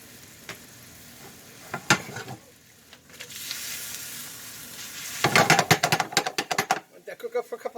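Shrimp scampi broth with parsley bubbles and sizzles in a pot, with stirring clatter, a steady simmering hiss that swells louder and crackly toward the end; no talk over it.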